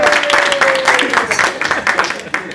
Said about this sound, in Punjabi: ਤਾਲੀਆਂ ਸਲੀਮ ਸਾਹਿਬ